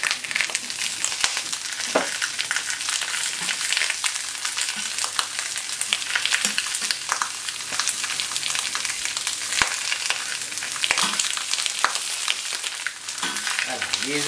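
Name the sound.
eggplant frying in olive oil in a pan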